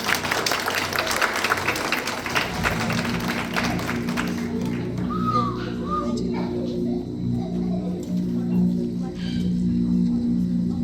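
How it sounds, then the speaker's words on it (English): An audience at an award function claps for the children, a dense burst of applause during the first few seconds that dies away, leaving a low steady hum with faint scattered sounds. "Let's clap all of us for all of them."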